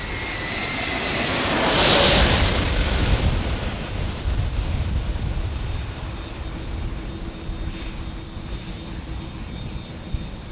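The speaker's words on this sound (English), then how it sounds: "we've got a lovely aircraft right here. This is our Frontier from Las Vegas" A Frontier airliner jet from Las Vegas roars past at an airport in San Diego at night, loud and close, the engine noise swelling to a peak early and then slowly fading into a long rumbling wash.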